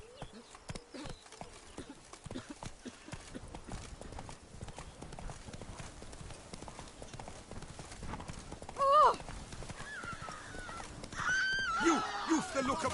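Geralt's horse Roach in The Witcher 3 gallops with quick, close hoofbeats at a steady pace. Later the horse neighs and whinnies loudly over the hooves, against a light outdoor game ambience.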